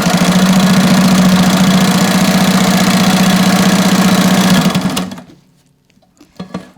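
A sewing machine stitches recycled sail fabric in a loud, fast, steady mechanical whir for about five seconds before stopping abruptly, followed by a few faint clicks and handling sounds.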